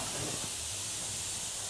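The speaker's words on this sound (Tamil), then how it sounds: "இப்போ அதில் கொஞ்சம் எண்ணெய் ஊற்றிக்கலாங்க." Oil poured into a pan on a lit stove while cooking a poori masala breakfast, giving a steady, close broadband hiss and sizzle throughout with no talk.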